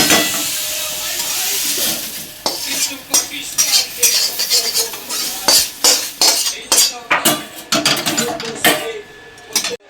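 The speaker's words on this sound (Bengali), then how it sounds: "একটু নাড়াচাড়া করে এগুলোকে নামিয়ে নেব" Shrimp heads with vegetables being stirred in a pan: a busy run of scraping and clattering strokes, loud and close, growing more frequent through the second half.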